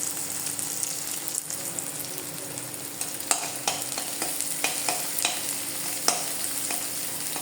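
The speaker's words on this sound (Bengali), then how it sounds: "এখন আমি পেঁয়াজগুলো একটু ভেজে নিচ্ছি।" Chopped onions fry in a pan for a Bangladeshi potato mash, giving a steady close sizzle with scattered sharp crackles and a few louder pops, no voices present.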